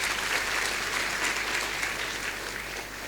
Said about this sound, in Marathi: आपण त्यांचं टाळ्या वाजवून स्वागत करूया